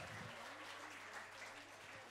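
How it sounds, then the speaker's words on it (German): Audience applause at a concert, a steady dense wash of clapping from a crowd, fairly loud and continuous for a couple of seconds with a voice faintly audible underneath. "Ein Applaus schon mal bitte."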